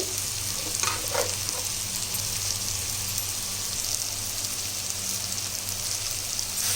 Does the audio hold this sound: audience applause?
no